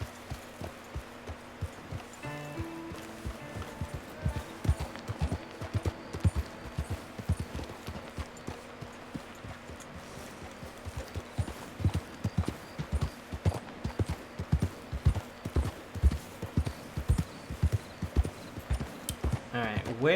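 Horse hooves clip-clop steadily in Red Dead Online, a rhythmic run of sharp hoof strikes on a town street lasting throughout, with a voice talking over the top.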